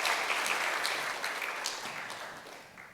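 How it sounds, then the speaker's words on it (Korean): A church congregation applauds during a Sunday worship service to congratulate a member on completing a course, moderate steady clapping that gradually fades out. "우리 박수로 축하하고 축복하겠습니다."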